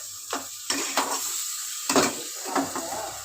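Cabbage being stirred and fried in a pan for a Bengali dish, with intermittent scraping and clattering strokes of a utensil against the pan over a soft sizzle, close and moderately loud, no talking.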